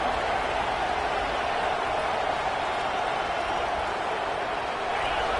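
Football stadium crowd coming to life as the defense tries for a stop, a loud, steady roar of massed voices with no break.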